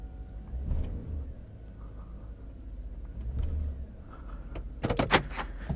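A GM 5.3L V8 truck engine with a separating motor mount, given a little gas in drive: a low idling rumble surges twice, then rattling clunks and knocks rise near the end, with no voices.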